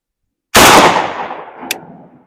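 Shotgun firing a Sterling mini slug from a straight pull bolt action outdoors: one sharp loud blast after half a second of silence, trailing into a long rolling echo with a faint distant crack of impact.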